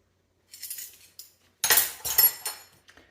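A clean metal tablespoon being picked out of cutlery, several bright clinks and jangles in two short bursts, close and clear with no talking.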